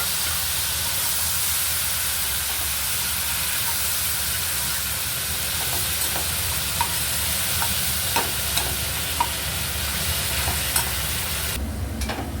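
Ground onion paste hissing steadily in hot oil for a prawn malai curry, with a continuous loud sizzle and occasional scrape of a spatula stirring the pan.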